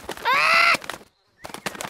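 A cartoon parrot from a Peppa Pig episode gives one brief, shrill, warbling call, close and clear. It is framed by short bursts of other cartoon sounds and a moment of silence.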